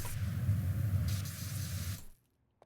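A pressure washer sprays in PowerWash Simulator 2 with a steady, loud hiss of water jetting for about two seconds, then cuts off abruptly into silence.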